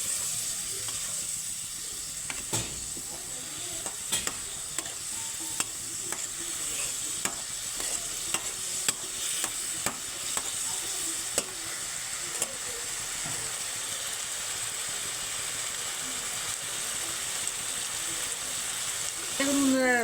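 Cabbage ghonto with spices and a splash of water fries and steams in a pan while a spatula stirs and scrapes in steady, repeated strokes, a constant loud hiss running beneath, close and without talk.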